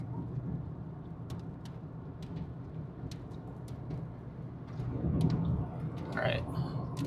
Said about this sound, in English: Look at how absurdly low this storm is.